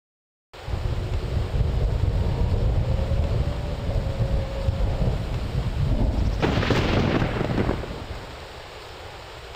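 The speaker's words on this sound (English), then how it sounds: "Beautiful rain sounds, some surprisingly decent thunder" Steady rain with a rolling thunder rumble in the Knights of the Old Republic 2 video game, the downpour constant throughout and a loud thunder crash swelling near the end before fading.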